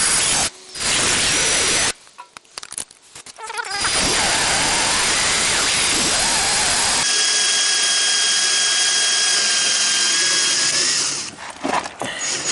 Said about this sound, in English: So I'm gonna mark these, drill them out,